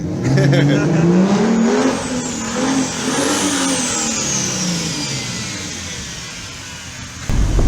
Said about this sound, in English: It's a Mazda engine, isn't it?